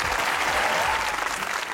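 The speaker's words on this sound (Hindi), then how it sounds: "तालियां बजाओ।" Studio audience applause on a Pakistani comedy talk show, a dense continuous wash of clapping at full strength throughout, with no speech over it.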